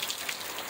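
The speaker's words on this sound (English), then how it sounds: "It's raining so hard, the stratosphere is just a shadow right now" Heavy rain in Summerlin, Las Vegas, a steady faint hiss of drops pattering on surfaces, continuous and even with no other sounds.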